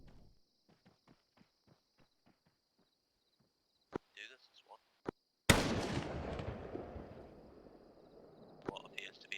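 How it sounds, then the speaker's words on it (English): Gunfire in a military engagement along a road: a string of sharp distant shots, then a few louder cracks, then one very loud close blast with a long rumbling tail and further scattered shots. "Gunshots, enemies in front."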